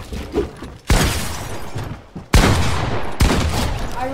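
Video game gunfire rings out in loud bursts, several sharp shots and rapid volleys with abrupt starts, separated by short quieter gaps.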